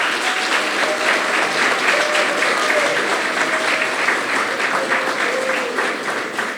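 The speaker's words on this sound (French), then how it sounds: "candidate qui s'appelle Lilou de Varcy, qu'on applaudit très fort" A crowd applauds loudly and steadily for a candidate at a school eloquence tournament, the clapping dense and unbroken throughout, with faint voices mixed in.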